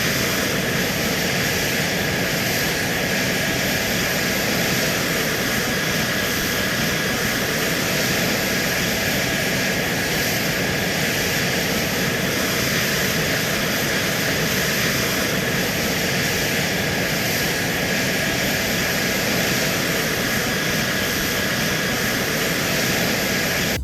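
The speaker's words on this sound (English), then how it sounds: "These fighter jet pilots flying in formation." Fighter jets fly in formation, producing a loud, continuous engine roar with a steady broadband rush and a faint high tonal whine, unbroken and unaccompanied by voices.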